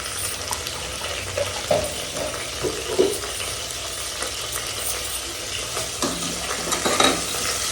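Onions sautéing with rock salt in a pan give off a continuous close sizzle, broken by the scrape and rustle of stirring throughout, with no talking.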